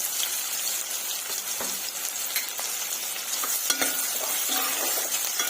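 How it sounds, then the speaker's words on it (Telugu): A thinly sliced medium onion sizzles in a hot pan, with a steady close frying hiss broken by occasional stirring scrapes and clicks. "ముందుగానే ఒక మీడియం సైజ్ ఆనియన్ కట్ చేసి పెట్టుకున్నాను, అది యాడ్ చేసుకుంటున్నానండి"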